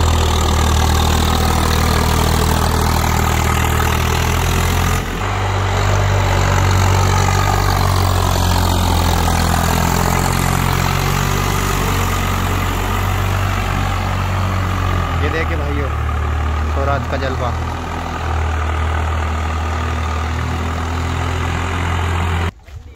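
A tractor engine idles close by on a farm with a deep, steady rumble throughout, while people talk over it in Hindi.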